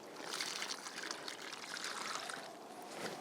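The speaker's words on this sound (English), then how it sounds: "So I will just water this in" Water pours and trickles from a watering can onto a newly planted Blue Angel hosta set in the ground in a shade garden, a soft continuous splashing stream that runs the whole time with no talk.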